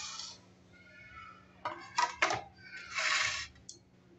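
Small fried katori dessert bowls are picked up and set down in a kitchen, giving a few light, faint clinks and taps with quiet handling noise between them.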